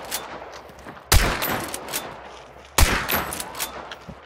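Two loud bursts of video game gunfire crack out about two seconds apart, each a sharp blast with a short rattling tail, over a quiet room background with no talking.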